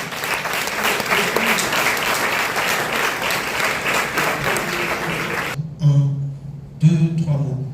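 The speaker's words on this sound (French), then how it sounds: "Le coach Ziedou, est-ce qu'on peut l'applaudir?" Audience applause for a coach at an open-day event for professional coaches fills the first five and a half seconds as a steady, dense clatter of many hands, then stops sharply, and a voice begins speaking.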